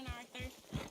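Horse hooves in the Red Dead Redemption 2 video game strike in three evenly spaced thuds, with a voice heard over them.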